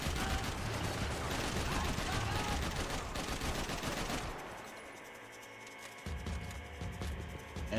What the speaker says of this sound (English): Why does he keep shooting me in the dick?